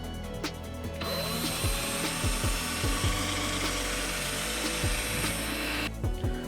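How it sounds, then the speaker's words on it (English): A power drill whirs continuously as it bores a half-inch hole, running steadily for several seconds with brief starts and stops at each end. "So I have to drill a 1/2-inch hole."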